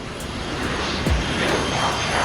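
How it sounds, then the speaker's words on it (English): A B-52 bomber takes off with a steady, loud roar of aircraft engines filling the short moment. "The colossal B-52 takes off on a mission over enemy land."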